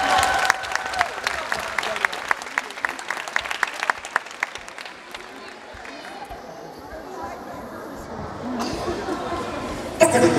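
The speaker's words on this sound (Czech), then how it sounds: "Nyní bych prosím pěkně přivítal obrovským potleskem naše tanečnice" Crowd applause greeting the Street Dance children's dance group, a dense burst of many hands clapping close and loud over the first half, thinning out and giving way to murmuring voices and background noise.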